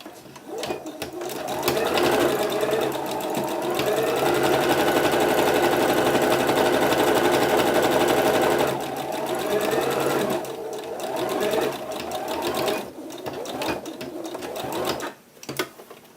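A sewing machine stitches the side seams of a pillowcase dress, its motor whirring steadily and close for long runs. It briefly slows and restarts midway, then stops with a few short bursts near the end.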